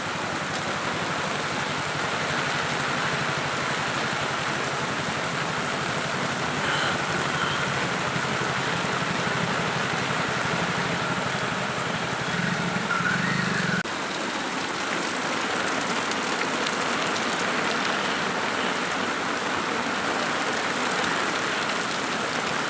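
Heavy monsoon rain pours down in a constant, even hiss of drops on surfaces, loud and unbroken for the whole stretch with no voices.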